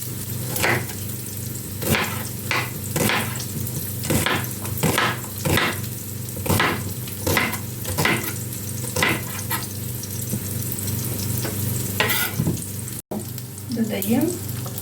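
Vegetables fry in a pan, a steady close sizzle punctuated by regular spoon scrapes and taps roughly every half second, with a brief voice near the end.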